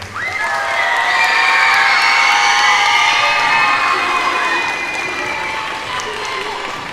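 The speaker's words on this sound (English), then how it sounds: "Let's get another round of applause for them." An audience cheers and claps for seventh and eighth grade performers at a school fine arts night, with steady loud applause, whoops and children's shouts that swell and hold before slowly thinning out.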